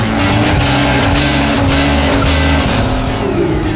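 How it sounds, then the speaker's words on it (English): A car skids through a handbrake turn, tyres squealing over a loud, steady engine roar with no pause across the few seconds. "And what about handbrake turns?"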